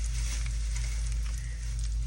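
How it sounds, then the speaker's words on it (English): Bacon frying in a pan, a constant close sizzle and crackle over a heavy low hum, steady for the whole stretch with no talking. "I've already started frying my bacon"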